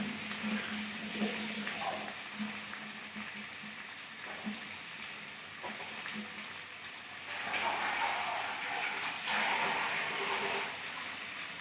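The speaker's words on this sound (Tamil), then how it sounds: "இந்த சுண்டைக்காய் நல்லா அலசி எடுத்துகிட்டு வந்துடுறேன்" Turkey berries (sundakkai) are rinsed under a running kitchen tap, with a steady wash of splashing water that swells louder in the second half and continues throughout.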